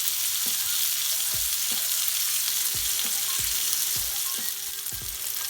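Garlic herb lamb chops frying in a pan, a dense close sizzle broken by repeated soft thumps and scrapes as they are turned, steady and loud with no talk.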